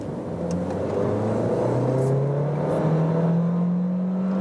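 A Seat Leon TGI running on compressed natural gas accelerates from 30 to 70 in sport mode, its engine note climbing steadily in pitch through a smooth, moderately loud in-cabin drone with no talking.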